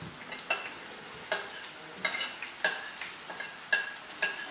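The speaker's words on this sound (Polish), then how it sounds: "Ziemniaki należy położyć na rozgrzany na patelni olej i smażyć do miękkości" Potatoes cut into thin slices fry in hot oil in a pan for a Spanish tortilla, a soft sizzle broken by regular scraping stirring strokes about every second, close and clear, with no talk.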